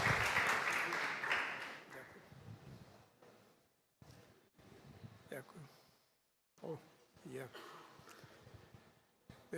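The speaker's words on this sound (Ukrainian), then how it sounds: "Тому давайте привітаємо оплесками професора Козинця, президента опікової української асоціації." Audience applause welcomes a professor, president of a Ukrainian burn association, at a lecture on treating burns in wartime. A short burst of clapping opens and fades within about two seconds, then someone speaks with pauses.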